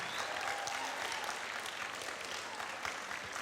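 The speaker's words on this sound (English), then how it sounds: "So let's give our teachers that are here a round of applause" An audience at a school event gives the teachers a steady round of applause, the clapping heard from a moderate distance and continuing evenly throughout.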